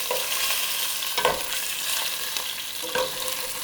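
Chicken pieces sizzle steadily in a hot pan, a bright constant hiss broken by a few louder scraping clatters as the pieces are turned over.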